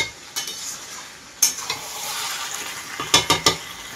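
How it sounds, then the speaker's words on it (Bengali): Mutton kosha is stir-fried in a pan, with a soft continuous sizzle, a spatula scraping and knocking against the metal, and a quick cluster of sharper clinks near the end. "মাটন কষানো হয়ে গেছে"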